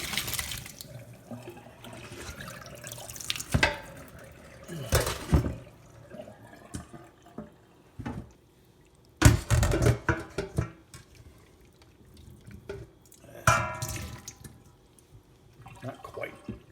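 Water gushes into a kitchen sink in uneven bursts as a pot is drained while making potato salad in a rice cooker, with splashes and clatter between quieter stretches.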